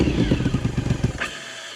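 A 1050cc Yamaha Raptor ATV engine revs in quick, rapid pulses for about a second, loud and close, then drops back to a lower idle rumble.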